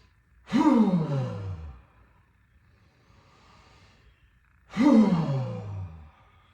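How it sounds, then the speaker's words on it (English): Two forceful exhalations in a Kundalini breathing exercise, each a loud, breathy rush that swells suddenly and tails off over about a second, separated by a few quiet seconds. "We're going to forcefully exhale."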